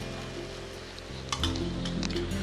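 Oil drizzled over a rava uttapam on a hot pan sizzles up close, a steady frying hiss that swells suddenly midway with crackling and a few light clinks of utensils.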